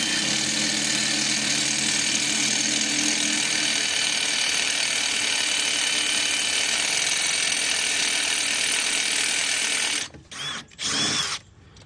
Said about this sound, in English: So what I always do is start the smallest drill bit. You're gonna drill.